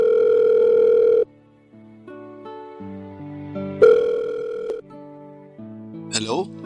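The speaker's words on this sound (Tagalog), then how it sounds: "Tagal naman sagutin yung tawag ko." A telephone line rings and tones while a call waits to be answered, with steady electronic tones shifting pitch in stepped patterns and a brief chirpy sound near the end, loud and close.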